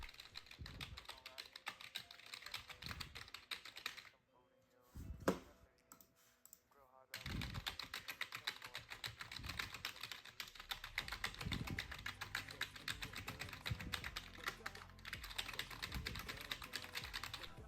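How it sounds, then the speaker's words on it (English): Rapid, continuous typing on a computer keyboard, tested on a Geekom Mini Air 11 Special Edition mini PC, with dense clicky keystrokes running nearly throughout and a short quieter gap in the middle. "see if we can spam the keyboard and how well it does as well on that."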